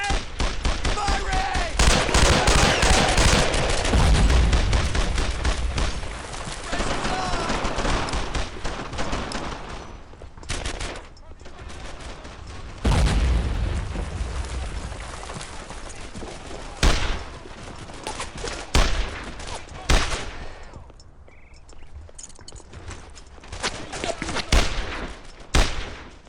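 Heavy gunfire in the World War II shooter Brothers in Arms: Earned in Blood, with long machine-gun bursts and loud blasts early on, then sporadic sharp shots and bursts, mixed with soldiers yelling.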